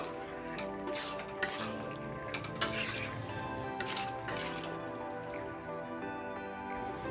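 A spoon stirring a mixed vegetable curry with chickpeas, paneer and almonds in a pan, soft scraping and sizzling with occasional clinks of utensil against metal, close and steady with no talk.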